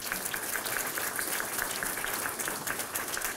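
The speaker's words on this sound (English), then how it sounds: "If y'all give them a round of applause." An audience at a sheriff's office pinning ceremony claps steadily for National Guard members, a dense, evenly sustained round of applause without talk.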